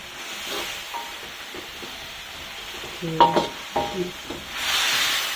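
Vegetables stir-fried in a pan for Japanese curry, a soft hissing sizzle with a few scraping stirs and clatters midway, then a broader steamy hiss swelling at the end, with no talk.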